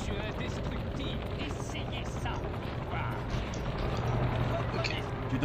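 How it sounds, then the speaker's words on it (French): A helicopter in a PS2 video game, its steady rotor drone and engine rumble filling the scene continuously at close range, with other mechanical noise mixed in. "Attention à l'hélicoptère."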